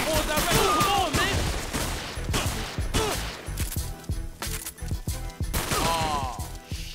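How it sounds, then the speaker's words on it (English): Gunfire in the video game 50 Cent: Bulletproof: dense bursts of rapid shots crackle from several directions, mixed with sharp impacts and shouted voices, loud and continuous over the whole stretch. "these bullets are coming from all directions"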